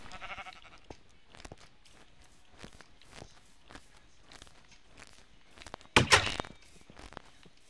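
A sheep in Minecraft bleats briefly near the start, followed by a run of soft in-game footsteps and thumps, with a louder burst of noise about three-quarters of the way through.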